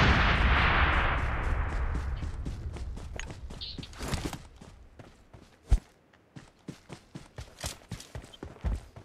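A loud burst opens a run of gunshots in the mobile battle game PUBG Mobile Lite, followed by a fast series of sharp individual shots that fade toward the end.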